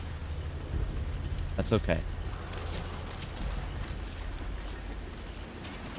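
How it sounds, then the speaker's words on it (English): Steady in-game rain from Metal Gear Solid V: The Phantom Pain, a broad hiss of falling rain with low rumble running throughout, with someone speaking briefly over it. "Yeah, the rain's lasting a hot minute, too."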